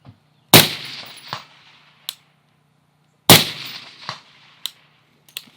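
Two sharp, loud rifle shots from a designated marksman rifle fired prone at a range, each a hard crack with a brief echoing tail, followed by fainter clicks and metallic handling sounds.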